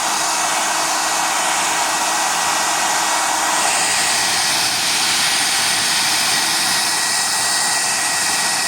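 A handheld hair dryer (blower) runs continuously at a steady, loud, close-up roar with a broadband hiss, without a break, and no talking.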